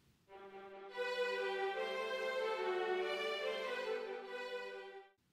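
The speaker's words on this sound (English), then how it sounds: "give it a quiet staccato accompaniment in the strings" A quiet orchestral passage plays with a delicate tune over a soft staccato string accompaniment, holding steady and gentle for several seconds before fading out, with no voices.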